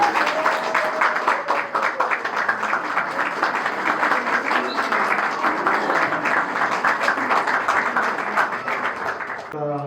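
Guests at a church wedding clap together in a sustained, lively round of applause lasting about ten seconds, with voices mixed in underneath.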